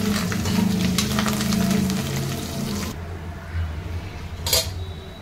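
A spatula stirs a Konkan-style vegetable curry of sprouted val beans in a pan after coriander and curry leaves go in, giving a steady sizzle and scraping that stops partway through, followed by a brief clink.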